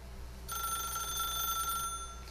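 A telephone rings in the video game The Stanley Parable, one faint, steady electronic ring lasting under two seconds over quiet room hum.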